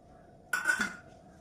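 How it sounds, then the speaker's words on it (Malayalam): A spoon clinks and scrapes once against a bowl while mixing spiced batter with turmeric, chili powder and coriander leaves for banana fritters, a brief close metallic rattle in a quiet kitchen. "ഇതൊന്നിന് സ്പൂൺ വെച്ചൊന്ന് മിക്സ് ചെയ്യാം"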